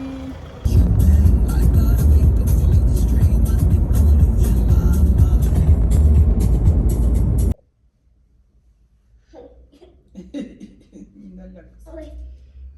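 A rental car drives along an Italian road, giving a loud, steady interior rumble for several seconds. It then cuts off abruptly, leaving near-silence and a few faint voices.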